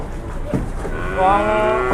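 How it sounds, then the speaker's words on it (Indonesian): A large jumbo cow moos loudly and close by as cattle are unloaded from a truck at a busy livestock market, one drawn-out bellow after a short thud. "Ini terdapat sapi jumbo yang turun dari truk."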